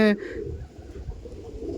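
Andhra pigeons, including a female, give soft low coos close by, following a brief burst of a voice at the start.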